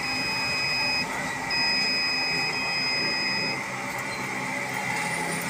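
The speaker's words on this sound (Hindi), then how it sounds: "बीप की आवाज़ आ रही होगी आपको" A continuity tester beeps steadily on a shorted board from a Jazz MF673 M10 mobile device, giving a thin, continuous high tone that holds through the whole stretch with a faint hum underneath.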